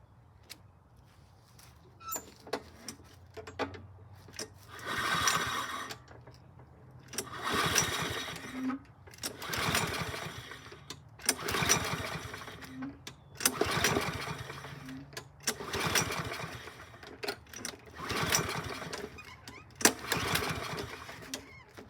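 A 2010 Yardworks lawn mower with a PowerMore engine, a non-priming unit with automatic choke, pull-started over and over: about eight rhythmic rasping cord pulls, each a brief sputtering burst, with no steady running between attempts.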